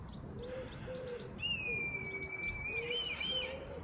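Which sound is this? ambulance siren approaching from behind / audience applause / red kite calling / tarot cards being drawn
red kite calling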